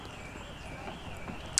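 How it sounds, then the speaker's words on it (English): An old horse and cart pass at the Weald and Downland Museum, hooves clip-clopping faintly beneath a steady tonal whine and background murmur, the beats soft and fairly regular over the brief moment. "Very nice seeing this old horse and cart going through"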